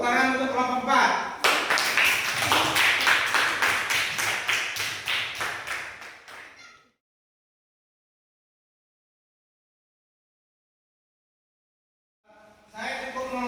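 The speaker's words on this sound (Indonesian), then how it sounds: "Tepuk tangan untuk kelompok 4." Classroom clapping for a student group, a few seconds of fairly quick claps with talk around them, fading to silence before a voice returns near the end.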